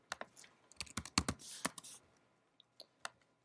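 Typing on a computer keyboard in a classroom: a quick, irregular string of key clicks and taps, close but fairly quiet, with short pauses between bursts.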